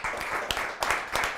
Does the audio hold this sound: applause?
yes